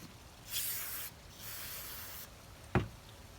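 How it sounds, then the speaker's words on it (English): Carb cleaner hisses from an aerosol can in two sustained close bursts onto the engine of a Sears Craftsman 5 HP air sweeper, followed by a single sharp knock. "Watch your eyes when you're spraying."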